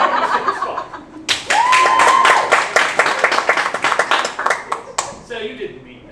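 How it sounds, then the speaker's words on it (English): An audience at a stage production of the musical The Mystery of Edwin Drood breaks into a burst of clapping lasting several seconds, with a voice and some laughter over the applause before it thins out. "So you didn't mean that, you just clapped."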